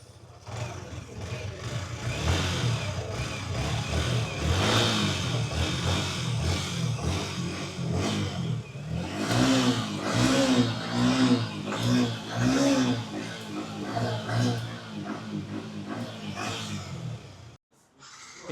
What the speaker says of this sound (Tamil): அப்படியே வச்சு நாங்கள் இன்ஜின் சவுண்டை பார்ப்போம்.